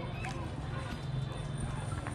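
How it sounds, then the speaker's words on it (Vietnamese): Hooves of horses clip-clop at the Bac Ha horse market in Lao Cai, northwest Vietnam, a steady stream of hoof steps in a noisy outdoor crowd, with people talking throughout. "Hôm nay là rất là nhiều ngựa luôn này."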